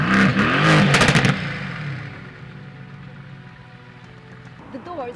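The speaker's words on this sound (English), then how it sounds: "The AMG GTS exhaust note is epic. There are very few cars that are so loud with pops and crackles like this car." Mercedes-AMG GT S exhaust blares in a loud burst of revving over the first second or so, then decays into a lower rumble; sharp crackles are not clearly distinct from the roar.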